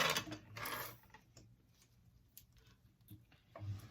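A sewing machine stitching down a zipper slider on a small zip pouch, short bursts of mechanical whirring and ticking with quiet pauses between, close and fairly soft.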